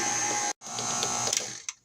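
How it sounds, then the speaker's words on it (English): Stand mixer whipping mashed potatoes at a raised speed gives a steady, close mechanical whine and hum, cut off briefly, then resuming before stopping with a small clunk. "I'm going to turn up the speed a little bit. We're going to have them in the mixer about 5 minutes."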